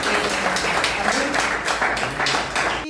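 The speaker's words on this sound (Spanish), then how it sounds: "¿Cuántos pueden dar un aplauso a ese Rey de Reyes" A church congregation claps steadily and loudly in a continuous burst, with voices mixed in under the clapping.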